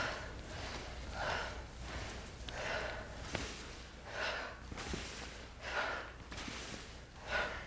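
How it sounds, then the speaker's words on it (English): Steady nasal breathing during an exercise, about six slow inhale-exhale cycles in an even rhythm, close and moderately loud with no talking. "breathing through the nose"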